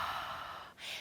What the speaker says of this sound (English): I want you to make a ha sound.